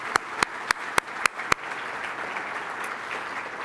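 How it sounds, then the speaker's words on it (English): Audience applause at a distinguished speaker event, opening with a handful of sharp, evenly spaced loud claps before settling into a softer, steady patter of many hands. "Some applause for them as well, please."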